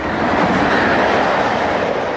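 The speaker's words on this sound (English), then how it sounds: "It comes in at great speed, it's the high-speed train, and then goes very quickly." A high-speed train rushes past on a main railway line in a rural spot, a loud, steady roar of wheels and rushing air that fills the whole stretch without letting up.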